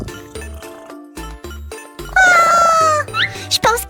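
A kitten gives a high, drawn-out meow, loud and close, set among bright jingling tones and light music, with voices talking around it.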